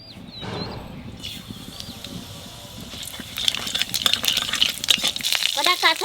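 Nigella seeds (black cumin) dropped into hot oil while cooking rui fish curry with ridge gourd, giving a steady low sizzle that grows into brighter crackling and popping in the later half.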